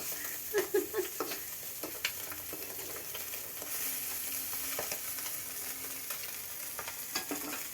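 Small puti fish fry in hot oil in a pan, a continuous soft sizzle broken by scraping stirs and a few clattering taps of a utensil against the pan.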